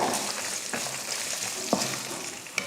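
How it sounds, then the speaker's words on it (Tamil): Ginger, dried chillies and urad dal frying in a pan for chutney, a steady crackling sizzle with occasional stirring scrapes and a few sharp clinks, close up with no talking. "இஞ்சியும் சேர்த்து நல்லா வறுத்துக்கோங்க"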